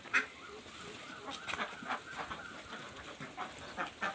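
A flock of ducks being herded into their pen, with scattered quacks and honking calls rising over a quiet farmyard background, intermittent and moderately near.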